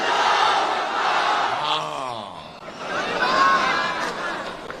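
A large crowd at a political public meeting in Jamalpur, Gujarat, roaring a loud chanted response to the Nara-e-Takbir slogan, a dense sustained mass of voices that swells and dips over a few seconds.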